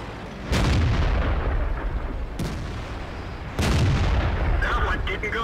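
Tank cannon shots in World of Tanks, where a Type 59 Chinese medium tank fires at an enemy tank, three heavy booming blasts with rolling tails, sounding close and loud over a continuous low engine drone.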